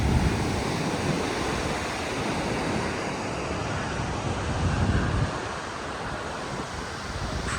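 Ocean surf rolls in at a quiet beach near Port Canaveral, Florida, a steady broad wash of waves mixed with wind buffeting the microphone, with no voices.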